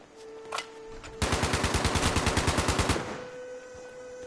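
A .50 cal machine gun in Fallout 76 fires a sustained burst of around twenty rapid, evenly spaced heavy shots, loud and close, preceded by a single faint shot, with game ambience humming before and after.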